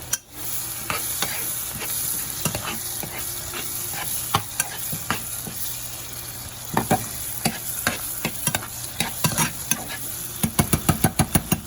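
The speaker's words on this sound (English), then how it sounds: "And then we start mixing it again." Sambar mixture being stirred in a pot over a steady background hiss, with intermittent spoon knocks and scrapes against the metal that turn into a quick burst of rapid taps at the end.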